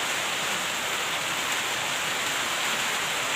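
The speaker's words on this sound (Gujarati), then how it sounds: "વરસાદ આવે છે" Heavy rain pours down steadily and loudly in a continuous broadband hiss, with no voices or other sounds breaking through.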